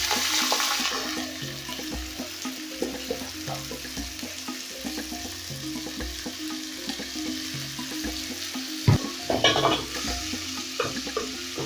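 Rice frying in about 1.5 tablespoons of hot cooking oil, with steady close crackling and sizzling under repeated scraping and stirring strokes and a brief louder clatter near the end.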